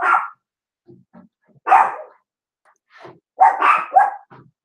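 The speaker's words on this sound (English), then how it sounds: "Sandy, that is not even a bark." A lone dog indoors gives scattered barks and yips, loud close bursts separated by longer gaps, with soft whimpering sounds in between and no speech.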